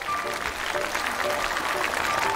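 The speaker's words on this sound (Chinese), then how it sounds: "我们给 Lisa 老师掌声鼓励。" A crowd applauding for dance teacher Lisa on a talent-show set, a dense steady clapping that fills the whole stretch.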